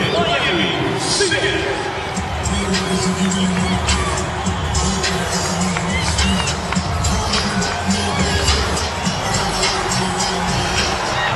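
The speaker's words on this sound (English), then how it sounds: "the crowd just erupted for this man right here, Lionel Messi." Stadium crowd at an Inter Miami pregame warm-up, roaring and cheering as Lionel Messi appears, a dense sustained wall of noise with shouts and whistles throughout while an announcer talks over it.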